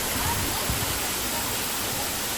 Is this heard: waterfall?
yes